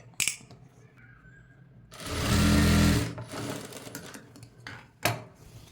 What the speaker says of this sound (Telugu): ఇప్పుడు దీన్ని నేను ఈ హెమ్మింగ్ పట్టీని నేను దూరం కుట్టేసి ఇలా స్టిచ్ చేస్తున్నాను